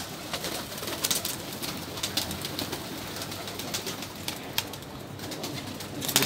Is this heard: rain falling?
no